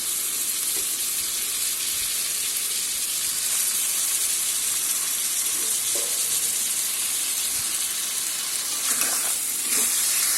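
Lote fish (Bombay duck), cleaned with heads removed, sizzles steadily in spice paste in a pan with no water added, a continuous close hiss that swells slightly toward the end, with no talking.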